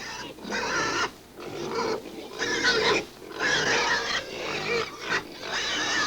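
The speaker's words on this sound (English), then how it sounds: "Pigs have always been a favorite animal of mine." Pigs grunt and snort close by in several rough bursts, with short pauses between the throaty, rasping calls.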